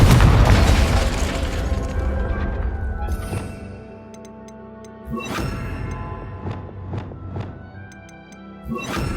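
A Confringo fire spell is cast in Hogwarts Legacy, giving a loud booming burst that rolls off and fades, followed by scattered lighter thumps, pops and chiming magical tinkles, with another thud near the end.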